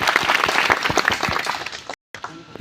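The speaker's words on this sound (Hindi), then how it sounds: "जोरदार तालियों से इनका स्वागत।" A crowd claps loudly at an outdoor meeting during the Ambedkar fair in Punkhraya, with sharp individual hand claps standing out in a lively, uneven burst that cuts off abruptly near the end.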